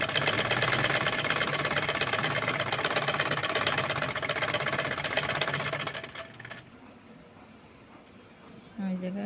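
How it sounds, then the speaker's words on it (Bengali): A sewing machine runs steadily at close range, stitching elastic onto a baby skirt, then stops abruptly and leaves quiet room noise, with a brief voice near the end. "আমি এখন রাবারটা সেলাই করে নেব।"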